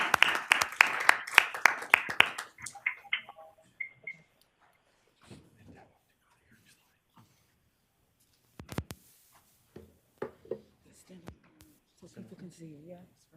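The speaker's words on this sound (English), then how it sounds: "Let's give that group a cheer." An audience at a transit authority board meeting claps for promoted command staff in a brisk burst lasting about two and a half seconds. The room then goes quiet, with scattered voices and talk afterward.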